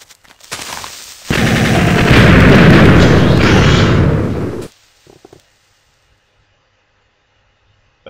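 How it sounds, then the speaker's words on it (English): Creeper explosions in the video game Minecraft, a dense roaring burst of blasts lasting a few seconds, loud and close, preceded by a few lighter pops and ending abruptly, followed by quiet clicks. "Okay, creepers. You want to blow up?"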